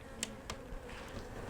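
Honeybee swarm that has moved into spare hive boxes, a faint, continuous buzzing drone with a few brief sharper flicks from bees passing close, no voices.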